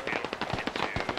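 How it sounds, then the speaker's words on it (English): Rapid bursts of gunfire in the military shooter game SquadOps, a dense string of sharp shots fired in quick succession at close to mid range, with no talking. "Okay, we're gonna start to fire."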